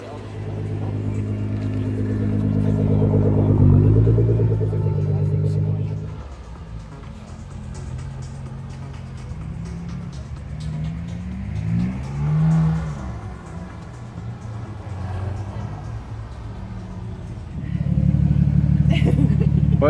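Nissan GT-R engine revving nearby in a loud, deep burst, easing to a lower rumble, blipping again midway and swelling once more at the end, with people talking over it.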